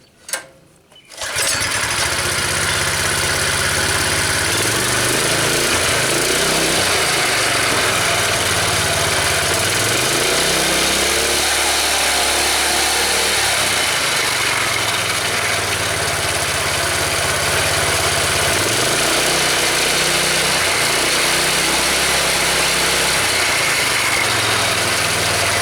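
Homemade motorized scooter's small engine starts up and runs loudly and steadily for about 25 seconds, with its buzzing note rising and falling in several waves as the throttle changes.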